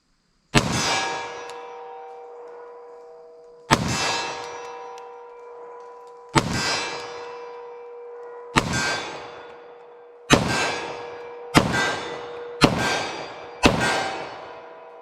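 Eight 10mm pistol shots fired at a target 25 yards away, each a sharp loud crack followed by a ringing metallic clang that decays slowly, spaced irregularly with gaps of one to three seconds and no talking.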